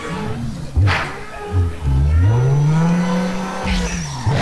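MkIV Toyota Supra accelerating hard in Need for Speed Most Wanted, engine revving up through gears with rising pitch, brief tire squeal, loud and close throughout.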